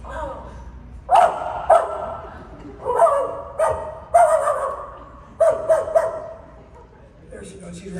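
A voice imitating his puppy barking, giving a series of short yapping barks and yips with small whimpers between them, close and fairly loud.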